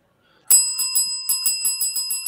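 A bell rings in a quick series of bright, metallic dings, about nine strikes in a regular rhythm after a moment of silence, close and clear with tonal overtones.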